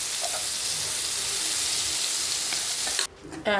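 Loud, steady sizzling of mustard seeds and urad dal frying in hot oil in a kadai, a dense crackling hiss that cuts off abruptly near the end.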